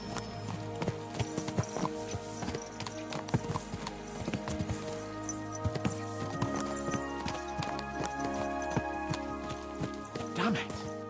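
Several horses gallop in the medieval video game Kingdom Come: Deliverance 2, rapid clip-clopping hooves pounding steadily over about eleven seconds, with a neigh and someone talking throughout.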